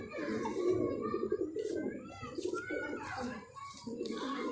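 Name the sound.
pigeon cooing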